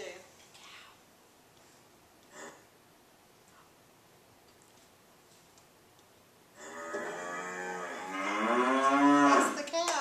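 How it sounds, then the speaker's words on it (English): A cow on a farm lets out a loud, drawn-out moo after several quiet seconds with faint knocks and brief voices, the call rising and swelling toward the end. "That's the cow."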